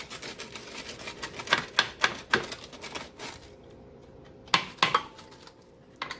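A knife slices through a Mexican taco pizza, giving a series of quick crisp cuts and taps against the pan, clustered in bursts with a short pause before a few more strikes.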